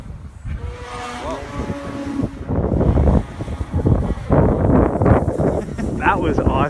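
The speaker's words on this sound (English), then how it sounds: "It is kind of windier than I thought," Gusty wind buffets the microphone in a seaside spot where gulls gather, a loud, uneven rumble running throughout beneath people talking.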